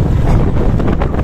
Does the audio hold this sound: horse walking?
no